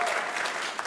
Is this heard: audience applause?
yes